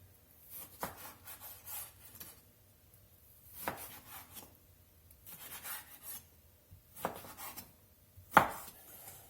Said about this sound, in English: so we're going to get this steak cut up